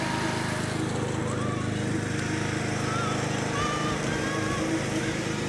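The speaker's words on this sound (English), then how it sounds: "My 8-year-old is learning how to mow." A lawn mower engine drones continuously at a steady level while a child learns to mow, with faint voices mixed in under the engine.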